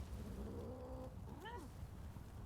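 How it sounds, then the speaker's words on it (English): Cat in the video game Rise of the Ronin gives a short, faint meow, a pair of rising-falling tones over steady game background ambience. "Oh, there's a kitty here as well."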